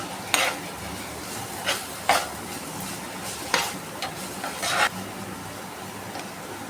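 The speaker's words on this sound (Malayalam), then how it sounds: "ഇത് ഇടയ്ക്കിടയ്ക്ക് ഇളക്കി കൊടുക്കാം" Crushed ginger being stirred into boiling water in a kettle, a handful of scraping, clinking strokes against the metal repeated every second or so over a steady simmering hiss, close and fairly quiet.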